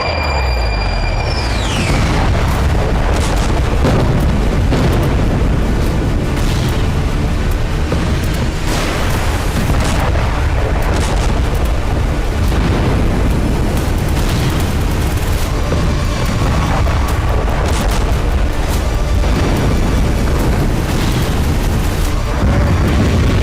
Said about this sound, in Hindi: जोरदार धमाकों के साथ उठता आग का गुबार।